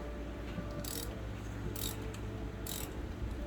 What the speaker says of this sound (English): Make sure my wrench is loosening.